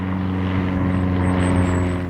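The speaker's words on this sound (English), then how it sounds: "Plane going overhead." A plane passing overhead above a Derbyshire cliff top, heard as a steady, fairly loud engine drone that holds evenly throughout with no voices.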